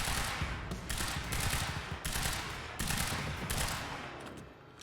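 Rapid automatic gunfire from the shooter Quantum Break comes in several loud sustained bursts separated by short gaps, fading toward the end.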